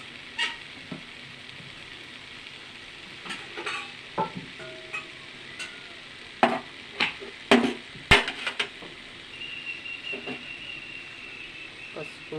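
Potato pieces fry in a pan, a low hiss running beneath a series of sharp scraping and clattering stirring hits that grow louder midway, with a voice speaking in between.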